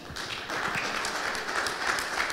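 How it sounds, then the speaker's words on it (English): Audience applause at the CoinAgenda Europe 2018 conference, a soft, continuous wash of clapping from a crowd, fairly distant and steady for a couple of seconds. "let's give him a round of applause"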